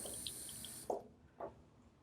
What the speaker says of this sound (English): Notice the water's still running.